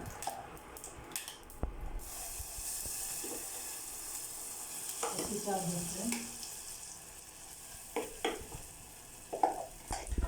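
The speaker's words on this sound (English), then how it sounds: "Now I will put some curry leaves" Curry leaves sizzling in hot oil in a pan for coconut chutney, a soft crackling hiss rising midway with stirring scrapes and a few utensil taps, faint talk in the background.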